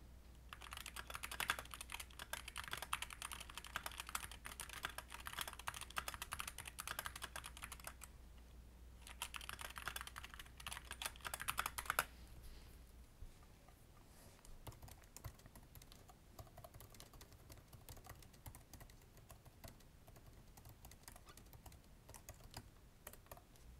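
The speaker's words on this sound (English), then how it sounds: "I'll switch on a mechanical keyboard from SteelSeries, and then the MacBook Pro keyboard" Continuous keyboard typing: rapid clattering keystrokes on a SteelSeries mechanical keyboard at first, then a lighter, softer patter of taps on a MacBook Pro keyboard, close and quiet overall.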